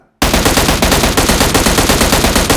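An M16 rifle firing a sustained fully automatic burst in the mobile video game PUBG Mobile, loud, close and rapid, with evenly spaced shots in a steady rhythm after a brief silent start.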